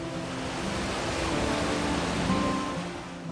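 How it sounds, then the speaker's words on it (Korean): Rough sea waves crash and churn continuously at a Jeju coastline where women divers work, a loud, dense, steady roar of surf with no voices. "아이고 홀몸도 아닌데 이 거친 파도를 온몸으로 받아내시네요"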